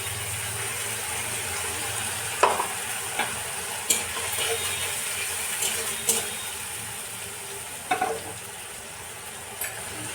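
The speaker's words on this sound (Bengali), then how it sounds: "আর এখন দিয়ে দিচ্ছি আদা রসুনের পেস্ট" Ginger-garlic paste hits hot oil in a pan, frying with a steady sizzle under repeated scraping and knocking of a spoon stirring, several sharp clanks standing out over the ongoing hiss, close by with no talking.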